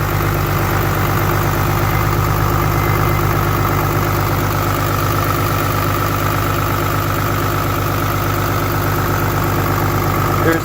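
A 2008 Cummins diesel engine idles steadily up close, a loud, constant rumble with an even mechanical clatter that holds without change from start to finish.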